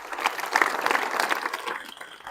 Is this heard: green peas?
no